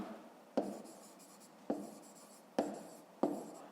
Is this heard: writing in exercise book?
yes